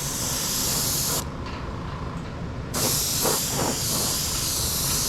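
A spray gun lays a tack coat of paint on a 1972 Dodge Challenger, a loud, steady hiss that cuts out briefly mid-way and then resumes just as strongly.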